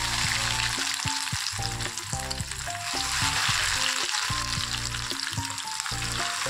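Chicken strips deep frying in hot oil, a loud, steady, continuous sizzle and bubbling that runs close and unbroken for several seconds.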